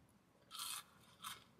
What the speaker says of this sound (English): That pancake is so crunchy.